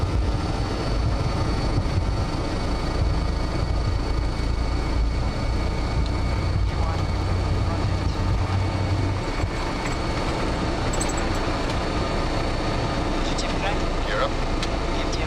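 An Albanian Airlines BAe 146-300 airliner accelerates down the runway for takeoff, its engines giving off a loud, constant roar with a broad rumble and a faint high whine that holds steady throughout.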